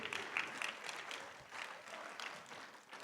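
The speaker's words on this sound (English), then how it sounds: "give a round of applause to our chapter officials" Audience at a Navajo Nation presidential forum in Shiprock, New Mexico, applauding chapter officials; a steady, moderately distant clapping that holds for about three seconds, with a murmur of voices beneath.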